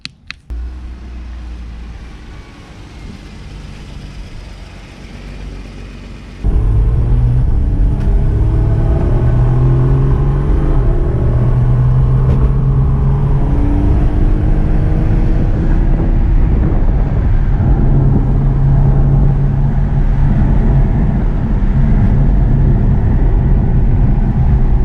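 A 2014 Porsche Cayman S (981 generation) street/track car accelerates on the road, its engine droning loud and steady with rising and falling harmonics, a quieter rumble at first before the drive picks up, with wind noise and no talk.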